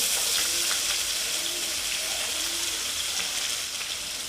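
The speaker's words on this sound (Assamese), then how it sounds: "পিয়াজখিনি প্ৰায় 2 পৰা 3 মিনিটমান সময় মিডিয়াম ফ্লেমতে লৰাই ভাজি ল'ম" Onions fry in hot oil with five-spice seeds and bay leaf over a medium flame, a steady close sizzle with faint stirring scrapes and no talk.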